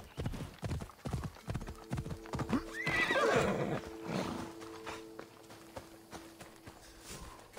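In the video game Assassin's Creed Odyssey, a horse whinnies loudly amid steady clip-clopping hooves on a hard surface, close by, with a faint background hum throughout.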